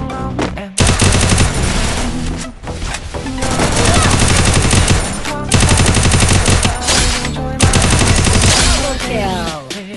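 Rapid automatic gunfire in the mobile battle-royale game Free Fire, loud and nearly continuous with dense bursts and short gaps, a brief pause near the start and a few breaks later on.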